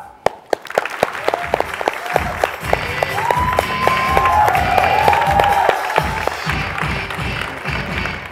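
Studio audience applause and cheering welcomes the final four contestants on The Face Thailand, a dense crowd clapping that starts sharply and swells into sustained applause under light music.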